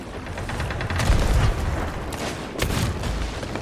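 Ship cannons boom in the video game Sea of Thieves, two heavy blasts about a second and a half apart over a steady wash of sea and ship noise.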